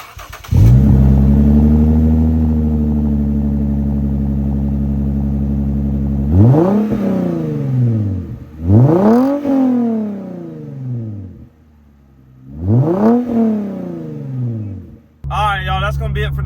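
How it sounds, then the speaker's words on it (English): Lexus IS250 with a new aftermarket exhaust idles with a deep steady drone, then is revved three times in sharp rising and falling blips, loud and close, with a brief pause between the second and third. "Here's the exhaust. Now it's time for y'all to hear it."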